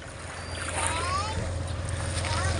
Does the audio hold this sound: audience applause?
no